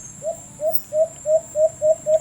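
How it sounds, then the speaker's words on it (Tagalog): An alimokon dove coos during a hunt, a run of seven evenly spaced soft, hooting calls, fairly close and clear over faint background noise. "humuhuni na si One Eye mga idol no."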